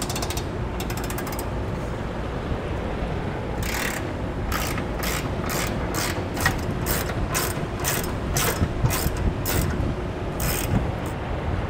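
Hand ratchet fitted with a 13/16 socket loosening bumper bolts on a 2021 Chevrolet Colorado: fast, regular metallic clicks in repeated strokes, close and clear against a steady background hum.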